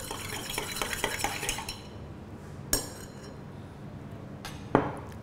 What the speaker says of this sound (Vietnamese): Khuấy đều.